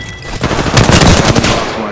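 Dense, loud automatic gunfire from the Apex Legends video game rattles in rapid continuous bursts, close and dominant, with no talk over it.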